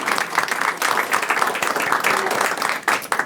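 Lively applause from an audience at a school board meeting welcoming guests, dense overlapping hand claps with a quick uneven rhythm, close and fairly loud, continuing through to the end.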